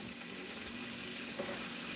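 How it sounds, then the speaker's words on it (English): Bread frying in a skillet gives a steady, close, moderate sizzle that runs unbroken through the whole stretch, with no voices over it. "you guys might hear my skillet frying. I got my bread in my skillet."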